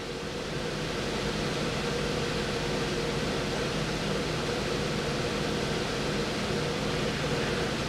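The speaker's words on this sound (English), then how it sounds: "That is the sound of the electric fan" Electric fan blowing from about six feet away inside a trailer, a steady, even whooshing hum that continues unchanged throughout with no other sounds.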